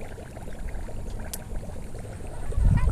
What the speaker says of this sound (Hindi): बहुत तेज़ी से उबल रहा है